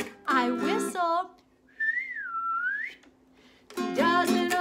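A person whistles a wavering, sliding tune in the middle of a children's song about a dog, a single clear melodic line between sung phrases on either side.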